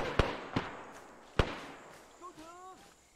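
Sharp explosions from a Phantom air strike in the Vietnam-era Arma jungle campaign: three loud, distant booms in irregular succession, followed by a voice speaking faintly.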